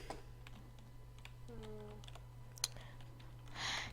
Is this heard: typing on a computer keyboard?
yes